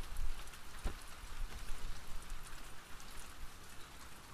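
Rain in the video game The Last of Us Part 2, a steady hiss of drops falling on surfaces, moderately loud and continuous, with a few sharper low thumps near the start.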